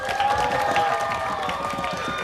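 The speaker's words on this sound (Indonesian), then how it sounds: "tepuk tangan kelompok E" A television studio audience claps and cheers for a quiz team on an Indonesian children's day quiz show, a dense, steady burst of applause throughout.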